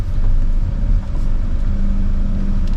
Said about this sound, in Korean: 이 차량에 대해서 시운전도 한번 해보고